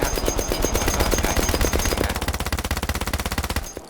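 Rapid automatic gunfire aimed at a boss in the Outlawz game, a loud, continuous stream of fast evenly spaced shots that rattles on without pause for several seconds.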